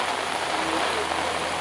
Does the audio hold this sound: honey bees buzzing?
no